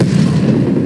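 A remote-control RC-XD car explosion in the Call of Duty Black Ops Cold War multiplayer game, one dense, rumbling burst that fills the short moment loudly and up close.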